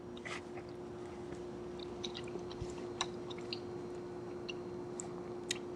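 Close, soft wet chewing of a mouthful of gnocchi in fresh homemade pesto, with faint squishy bites and small clicks over a steady low background hum.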